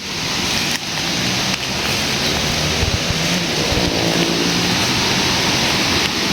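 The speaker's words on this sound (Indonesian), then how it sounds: "Tuh, suara airnya kedengaran kan?" A river flows beside a house in the forest as a loud, continuous rush of water that stays constant and fills the whole clip.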